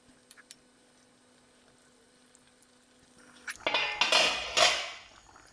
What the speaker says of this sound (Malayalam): ഇനി നമുക്ക് മൂടി വയ്ക്കാം.